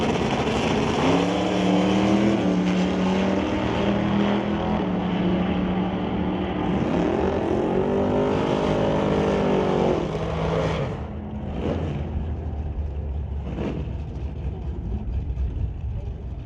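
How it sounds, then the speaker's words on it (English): A Dodge Dart and a Barracuda drag race side by side at an ET bracket event, engines roaring loud with rising and falling revs and layered harmonics, then fading somewhat as the cars pull away down the track. "Dodge Dart will race against the Bucky's Mini Excavating, Titanium Auto Group, and Rad Torque Systems, Wheel Stand and Barracuda of Jim Banky."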